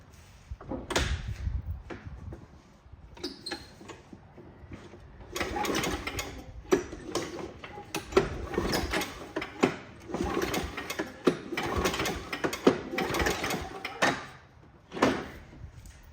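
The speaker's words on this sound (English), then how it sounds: "I'm gonna pull the rope, and let's just see what happens." A 16-year-old 22-inch Toro Recycler Personal Pace lawn mower has its starter rope pulled repeatedly, each pull a close, rough zipping rattle of the recoil starter, with the engine not catching.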